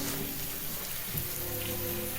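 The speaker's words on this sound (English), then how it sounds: "You're not really afraid of the rain, are you?" Steady rain falls in an unbroken hiss, spattering evenly on surfaces at moderate volume. No voices or other sounds come through.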